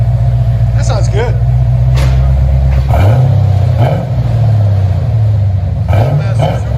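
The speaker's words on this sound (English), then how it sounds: "FLOWMASTER Super 10, Chevy Corvette." A 1986 Chevy Corvette with a 5.7L V8 and Flowmaster Super 10 dual exhaust rumbles loudly up close, its deep idle broken by several quick throttle blips that rise and fall.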